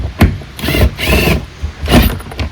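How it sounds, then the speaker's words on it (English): Impact wrench driving a 12 mm bolt through seat strap fabric on a 2022 Yamaha FX, several short loud bursts of rattling whir separated by brief pauses. "I've got it on a rattle gun here or in your socket."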